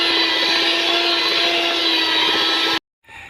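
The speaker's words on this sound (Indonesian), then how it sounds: "Kita mixer sampai mengental Bunda ya" An electric mixer beats fish pempek dough: a loud, steady motor whine that runs unbroken, cuts off abruptly, then returns after a brief silence.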